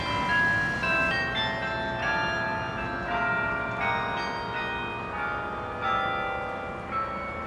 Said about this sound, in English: Church bells are tolling.